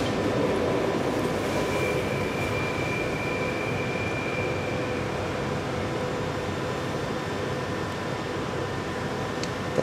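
London Underground Tube train on the way to Victoria, a steady loud rumble of a carriage in motion throughout, with a faint whining tone rising briefly partway through and no talk over it.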